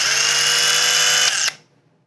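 An Atlas Copco Power Focus Cross Country torque tool runs a 1,000 foot-pound torque program, giving a steady loud whine for over a second that then cuts out sharply into quiet.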